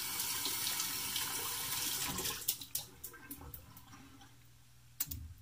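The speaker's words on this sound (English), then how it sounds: "I'll give a quick rinse." Tap water runs into a sink as a shaving brush is rinsed, a close, hissing stream for about two seconds that then cuts off, followed by a few drips and small clicks.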